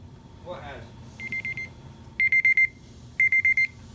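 A kitchen timer alarm rings in three loud bursts of rapid electronic beeps, each a quick run of four or five pulses, after a short burst of voice and over a low background rumble.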